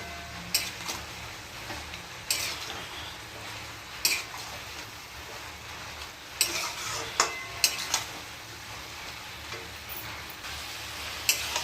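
Spices and green chillies sauté in a pan, a quiet, low sizzle under repeated scraping and tapping spatula strokes that come in irregular bursts, close but faint and without talk.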